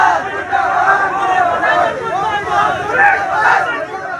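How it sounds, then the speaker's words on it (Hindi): ABVP students chanting slogans in a crowd outside OP Rajbhar's residence, loud rhythmic massed voices shouting in unison with steady crowd noise, continuous and close. "बाहर प्रदर्शन किया और मुर्दाबाद के नारे लगाए।"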